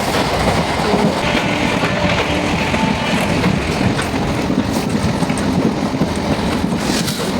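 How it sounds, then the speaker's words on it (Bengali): Inside a moving train on the way to Digha, a loud, continuous rumble of wheels on rails carries faint rhythmic clatter throughout. "ট্রেনে উঠে পড়েছি"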